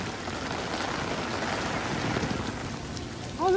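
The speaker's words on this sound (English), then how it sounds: "Oh look, it stopped raining." Steady rain patters down on surfaces at Epcot theme park, a dense, continuous hiss close by that holds nearly level throughout, with a brief louder swell at the very end.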